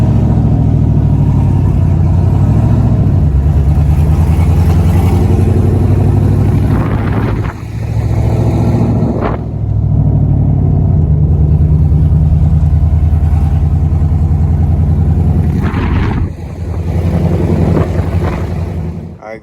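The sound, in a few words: 2001 Camaro SS turbo LQ4 car driving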